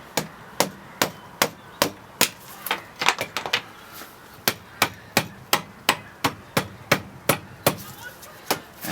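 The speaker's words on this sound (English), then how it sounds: "let's try the old hammer." A hammer strikes a stuck part on a Honda CBR 750 Hurricane motorcycle, a close, loud series of sharp metallic blows at an irregular but steady pace, about twenty in all with a brief flurry midway.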